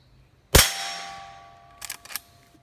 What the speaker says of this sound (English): I would try shooting a playing card with the Henry 22 lever action.